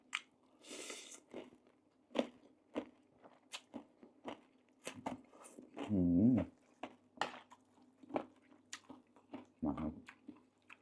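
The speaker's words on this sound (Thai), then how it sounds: "ถั่วทอดครับกรอบมากมันนะครับ" Crunchy fried peanuts being chewed close up, with repeated sharp crisp bites and crunches in an irregular rhythm, a couple of louder squishy chews standing out, and no talk.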